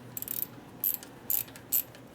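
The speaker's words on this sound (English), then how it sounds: "Can I tighten it with the wrench now?" A wrench tightens a part on a 1988 Harley FXR, giving a few quick ratcheting clicks followed by three short metallic bursts, close and moderately loud.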